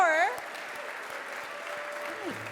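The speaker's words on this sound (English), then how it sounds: "can we hear a round of applause once again for our class of 2024" An audience applauds a class of 2024 at the TLN 10 Most Influential Hispanic Canadians awards, a brief voice opening before a steady wash of clapping that holds at moderate volume to the end.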